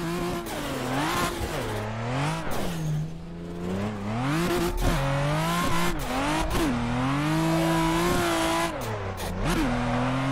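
The engine of Adam LZ's Cream 240 drift car in Assetto Corsa on PC is rev banged over and over. Its loud, buzzing tone climbs and drops in repeated sweeps with sharp crackles between, and nobody talks.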